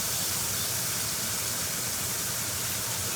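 Cut onions sauté in a pan with a dense, steady hiss. The sizzle stays even and close throughout, with no talking over it.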